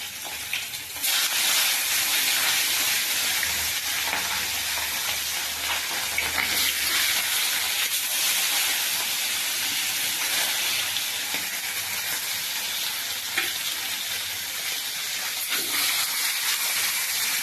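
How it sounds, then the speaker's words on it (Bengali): Bata fish coated in salt and turmeric fry in hot oil, giving a continuous, loud, crackling sizzle close by with faint clinks of utensils and no talking. "সেই মাছগুলো এক এক করে ভেজে নেব"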